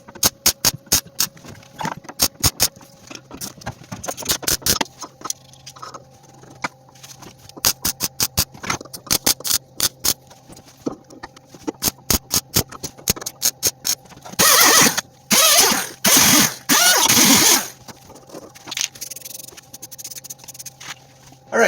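Wire tie-down clamps are welded onto a vintage chassis: loud, close bursts of sharp crackling clicks come in uneven clusters, then a few seconds of sustained harsh buzzing before the clicks resume.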